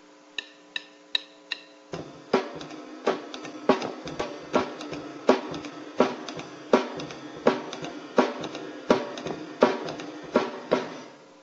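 A drum beat with the snare cracking on beats two and four, following a few light opening clicks, then a steady regular pattern of sharp hits played alone and close.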